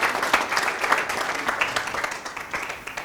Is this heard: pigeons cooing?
no